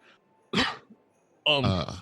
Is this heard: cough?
yes